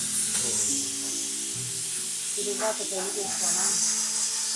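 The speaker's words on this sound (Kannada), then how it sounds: "ಕುಕ್ಕರ್ ಅಲ್ಲಾಡ್ತಾ ಇದೆ ಅಂತ" A pressure cooker cooking broken wheat bisibelebath gives off a loud, steady steam hiss with a faint rattle. It sounds close, and voices talk intermittently over it.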